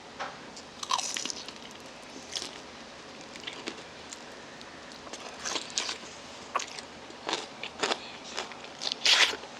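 Close, sharp crunches of biting into large chili shrimp with a glutinous rice coating, followed by wet chewing in bursts with quiet gaps.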